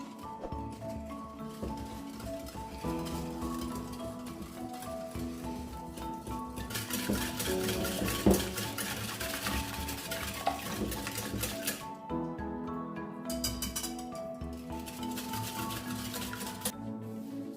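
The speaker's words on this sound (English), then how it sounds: "Then you're just going to mix all this together." Cameroonian gateau bun ingredients are mixed together in a bowl, giving irregular clinks and scraping taps of a utensil against the bowl, moderately close and continuing throughout without speech.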